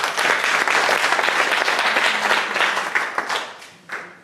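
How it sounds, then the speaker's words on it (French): Dense audience applause at a conference, steady and loud for most of the stretch, then thinning into scattered claps near the end. "On peut également l'applaudir."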